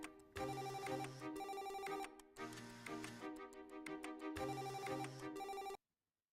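A phone ringtone plays a bright, repeating melodic pattern in several bursts for nearly six seconds, loud and alone, then cuts off abruptly into silence.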